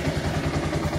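A Rouser 180 motorcycle, fitted with a new carburetor and fuel hose after refusing to run, catches on push start with a close, rough, pulsing engine note over roughly one second of steady running.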